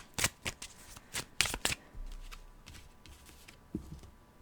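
A playing card being handled during a card trick, heard as a series of crisp riffling, flicking card snaps close up, bunched at the start and then softer, scattered rustles.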